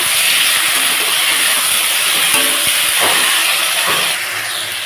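Whole spices crackle and sizzle in hot oil for tempering while cooking a Bengali rohu fish curry with green banana and potato, a steady loud hiss throughout that eases slightly near the end.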